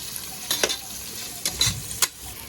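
Onions sautéing in a pan until golden: a few short scraping stirs over a soft, steady sizzle, with no talk.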